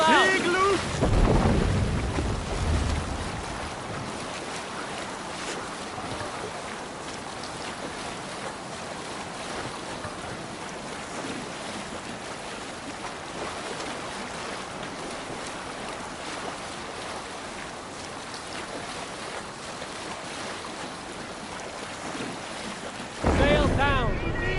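Strong sea wind rushing steadily against a longship's sail in Assassin's Creed Valhalla, a loud continuous roar with washing waves, swelling at the start and again at the end.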